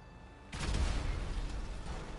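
A car blown up with grenades in a GTA game: a sudden loud explosive boom bursts in about halfway through, then a heavy rumbling roar that lingers and slowly settles, with a quieter ambient bed before it.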